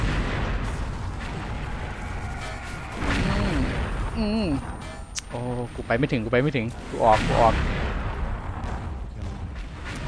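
Booming grenade explosions in a video game rumble and burst repeatedly under excited talking, with scattered gunfire-like pops between them.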